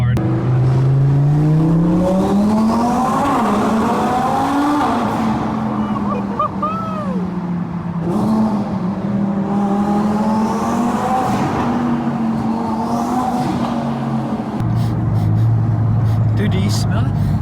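A 1200-horsepower twin-turbo Audi R8 drives through a wet tunnel, its engine droning loudly and rising and falling in pitch as it revs and shifts, with the sound echoing off the tunnel walls throughout.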